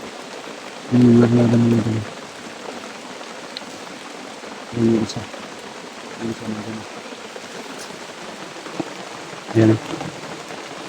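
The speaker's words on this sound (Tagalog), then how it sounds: "Sobrang lakas ng ulan." Heavy rain hisses steadily outdoors at night while several short bursts of nearby voices break in over it.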